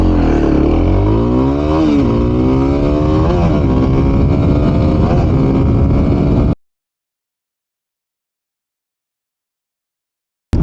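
A Kawasaki KLX 300 SM motorcycle accelerates hard from a standstill, its loud engine climbing through several gear shifts for about six seconds, then the sound cuts to silence before a brief return at the end.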